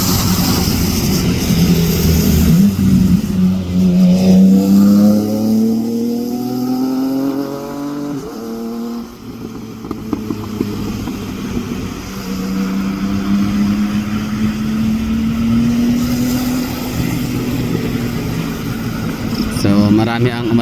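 A jet airplane takes off at Francisco Bangoy International Airport in Davao, a loud sustained engine roar with rising and falling whine, heard from a nearby spotting position with steady background rumble.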